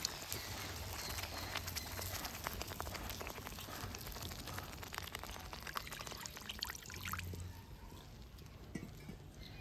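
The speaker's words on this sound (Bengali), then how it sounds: "এরপর দিয়ে দিচ্ছি পরিমাণ মতন জল।" Water is poured into sizzling garlic masala for an egg curry, giving a steady splashing pour that gradually settles into softer bubbling; faint and close.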